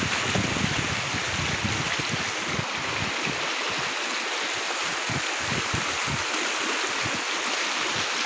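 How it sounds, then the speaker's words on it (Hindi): The Gargi river, locally called the Loka, near a suspension footbridge in Uttarakhand, rushes with a loud, steady broadband roar of flowing water, uninterrupted from start to finish. "ये गार्गी नदी है।"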